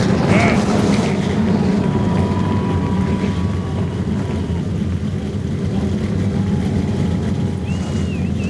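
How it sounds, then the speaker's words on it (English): Engines of a big field of ASA Racing Series stock cars firing up and idling together at Indianapolis Raceway Park, a dense, steady low rumble that holds loud and even throughout, with a few higher whines over it. "Gentlemen, start your engines!"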